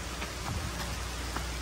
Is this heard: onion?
no